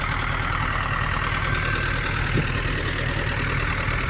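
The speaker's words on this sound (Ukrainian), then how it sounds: "Трактор ЮМЗ-83 і Супенка." A steady, low YuMZ-83 tractor engine idles continuously throughout, pulling an SUPN-8 seed drill while sowing sunflower, a constant rumbling drone with no voices and no change in pace.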